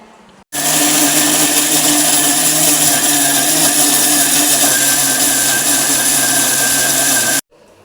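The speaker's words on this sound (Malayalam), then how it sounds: "ഇനി നമുക്ക് ഇത് മിക്സിക്കകത്തൊട്ട് നിടാം അരയ്ക്കാൻ" A mixer grinder grinding chickpeas whirs loudly and continuously after a brief quiet start, a steady high-pitched motor drone that cuts off abruptly near the end.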